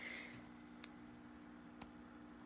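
Crickets chirp in a quick, even, repeating pulse, faint and close, inside a reptile enclosure at night where they have been put as food, with no talking.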